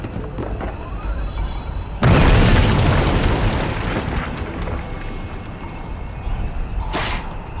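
A bomb blast in the video game We Happy Few: a sudden loud boom erupts after a quieter stretch, then rumbles and decays over several seconds, with a second sharp burst near the end.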